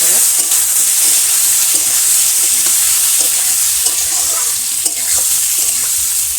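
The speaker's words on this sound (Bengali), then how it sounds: "সিদ্ধ করা আলুগুলো দিয়ে দিলাম আলুটা ভেজে লাল লাল" Boiled potatoes fry in oil in a village kitchen, giving a steady, loud, close sizzle with occasional stirring scrapes throughout.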